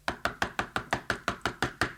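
Knocking on a door for a children's story, about nine sharp, evenly spaced raps in steady rhythm, close and clear with nothing else heard.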